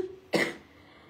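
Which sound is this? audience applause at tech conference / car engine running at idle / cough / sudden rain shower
cough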